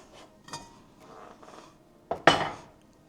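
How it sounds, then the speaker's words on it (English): Metal lid pried off a home-canned glass jar of soup ingredients: a few soft clinks and scrapes, then one sharp close pop-and-clatter near the end. "Take the lid off."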